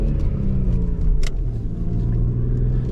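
Audi S4 B5 with 265 horsepower and 217,000 km on the clock, driving through a forest: a steady, close engine drone and low road rumble, continuous and loud with no voices.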